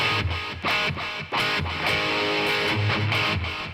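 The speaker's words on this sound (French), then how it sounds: "Il y a un écho qui est avec de la reverb en plus" An Ibanez electric guitar runs through a software delay with added reverb, playing a riff. Distorted, clipped chords ring out in a choppy rhythm, each trailed by echoing repeats.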